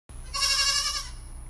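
Goats kept in a backyard let out one long, loud, wavering bleat close by, which then fades off into a quiet background.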